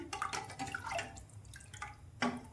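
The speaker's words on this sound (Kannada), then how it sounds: "ಇನ್ನೊಂದು ಚೂರು ನೀರು ಹಾಕ್ಕೊತೀನಿ." A small splash of water is poured into a jowar (sorghum) mixture, a brief close liquid trickle and drip lasting a couple of seconds, heard alone.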